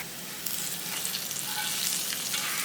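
Hot tempering with curry leaves and chilli powder poured into a pumpkin ozhichu curry, producing a sharp, loud, steady sizzle that fills the moment and swells slightly toward the end, nearby and without speech.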